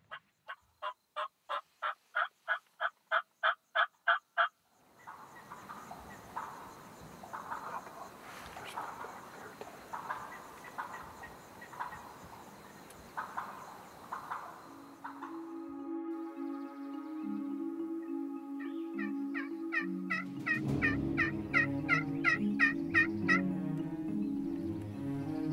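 A young wild turkey jake in Kansas gobbles near dusk. A rapid, evenly spaced burst of calls is followed by looser gobbling and clucking, and then denser, louder gobbles and other bird noise close by.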